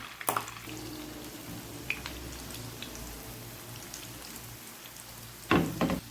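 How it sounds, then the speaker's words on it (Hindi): Gola kebabs frying in oil in a pan, a steady close hiss and crackle throughout, with a louder sizzle and clatter near the start and again near the end, no talk. "अब हम इसको पैन में कबाब रखते जाएंगे।"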